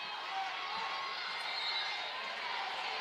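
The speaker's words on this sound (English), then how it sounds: "Noisy crowd here at Clear Lynch" Noisy crowd at a MIAC women's college volleyball match between Augsburg and St. Ben's, a steady dense roar of cheering and chatter filling the gym for the full stretch with no distinct breaks.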